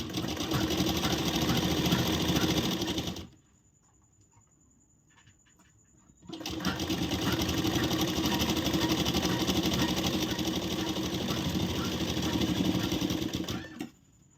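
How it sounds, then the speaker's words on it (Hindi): An electric sewing machine stitches blouse fabric for a princess-cut blouse in a steady, close, whirring run. It stops for a few seconds of near silence, then starts again and runs for about eight seconds. "तो ये हमने सिलाई लगा दी है।"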